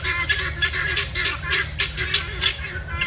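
Turkeys call repeatedly in the heat, a quick series of honking, squawking notes that sound fairly close, with no talking.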